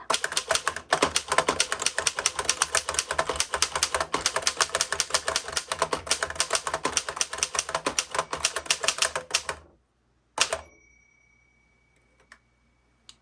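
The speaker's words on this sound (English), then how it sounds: "on mine, the bell is really sensitive. So it just keeps dinging as I'm typing" A 1911 Royal Standard No 1 typewriter typed rapidly at close range, a dense fast rhythm of crisp key strikes that stops abruptly, followed by a single clear bell ding, a carriage sound and faint clicks.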